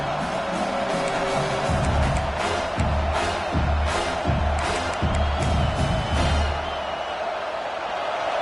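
A home crowd roars in College Football 26 during South Carolina vs Clemson on a third down, a dense, sustained stadium din that swells and holds for the whole stretch.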